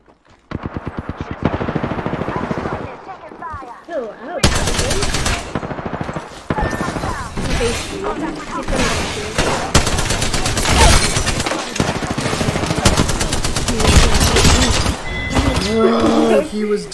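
Rapid automatic gunfire from an Apex Legends match, with dense bursts of shots nearly nonstop across the clip, loud and close, mixed with game effects and a voice talking over the firing.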